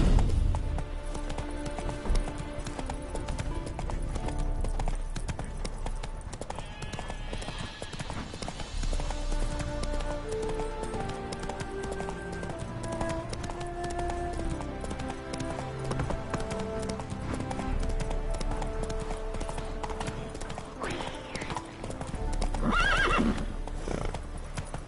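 Roach, a horse in The Witcher 3, trots with rhythmic clip-clopping hooves and lets out a loud neigh near the end, heard close over background game music.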